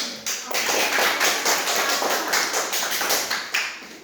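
Classroom applause as students clap for a classmate returning to his seat, a dense, steady patter of many hands close by, sustained for several seconds without talk.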